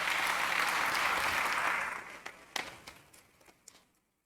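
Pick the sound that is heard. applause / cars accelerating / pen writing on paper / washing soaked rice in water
applause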